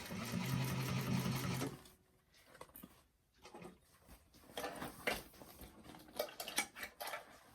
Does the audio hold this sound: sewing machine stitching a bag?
yes